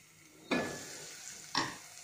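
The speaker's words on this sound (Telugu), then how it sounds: "తర్వాత అల్లం వెల్లుల్లి పేస్ట్, కాసేపు మగ్గిన తర్వాత" Ginger garlic paste frying in a pan for bottle gourd curry gives a soft continuous sizzle, broken by two brief scraping bursts as it is stirred, close and quiet.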